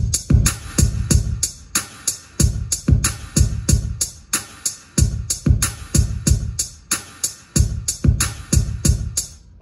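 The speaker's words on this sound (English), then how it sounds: "now we're rolling with the drum groove." Looping drum groove with a repeating cymbal, a steady pattern of punchy kicks and bright cymbal hits that plays loud and continuous.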